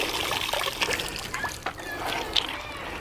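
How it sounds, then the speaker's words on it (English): Soaked goat hide being wrung out by hand, with liquid trickling and splattering in irregular bursts, close and fairly quiet, with a faint background voice. "So what we're doing now is wring it out."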